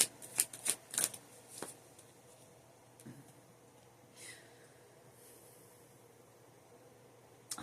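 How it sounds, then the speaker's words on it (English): A deck of tarot cards riffles in a few quick, crisp bursts close by, followed by quieter soft rustling and handling against a faint background hiss. "I like freaking shuffling these cards"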